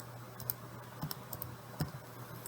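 Faint, sparse button presses on a graphing calculator as an equation is entered, a few soft clicks scattered over a low steady hum, with no voices.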